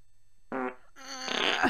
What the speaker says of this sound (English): Okay, one less fart.